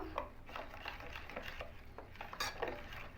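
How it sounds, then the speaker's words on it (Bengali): Spice paste stirred into raw mustard oil in a bowl for steamed catla fish, with soft scraping and clinking of a spoon against the bowl in a steady, close rhythm and no talking. "এবার খুব ভালো করে মশলাটা আমরা মিশিয়ে নেব"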